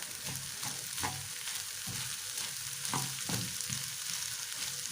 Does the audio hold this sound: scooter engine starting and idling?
no